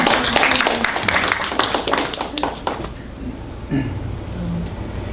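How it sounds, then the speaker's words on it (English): Listeners at a poetry reading in a café break into brief applause, a burst of close, uneven clapping lasting under three seconds that dies away into room quiet with a faint voice. "You can just hold the applause till the end."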